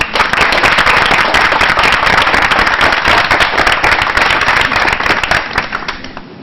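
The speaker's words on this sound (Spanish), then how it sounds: "ahora les pido un aplauso para Rolando" A book-launch audience applauds author Rolando Martiñá with loud, dense clapping that fills the room steadily for several seconds before starting to fade at the end.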